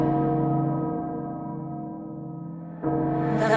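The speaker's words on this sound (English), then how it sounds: "castle bell heralds danger." A low, resonant castle bell from Resident Evil Village rings out and lingers in a long decaying hum, followed by a sharper burst of sound near the end, with no speech.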